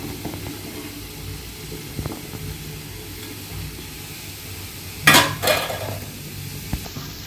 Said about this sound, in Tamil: எல்லாம் சேர்த்த அப்புறம் நல்லா கிளறி விடுங்க.